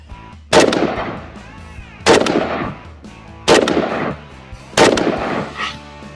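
Four loud gunshots from a WBP Midi Jack, a Polish civilian AK-based 5.45 carbine, fired at a 50-metre range, evenly spaced about 1.4 seconds apart, each sharp crack trailing into a brief echo.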